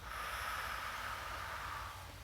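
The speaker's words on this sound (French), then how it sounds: "vous inspirez par le nez et vous soufflez par la bouche" A single long breath is exhaled through the mouth as a breathing exercise, a close, steady airy hiss lasting about two seconds and fading slightly at the end.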